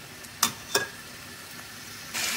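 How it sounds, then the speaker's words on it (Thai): Pork fries in a pan with little oil, a faint low sizzle broken by two sharp spattering pops early on and a louder hiss rising at the end, with no voices. "เนี่ยค่ะวิธีทอดหมูเนาะค่ะเนาะ"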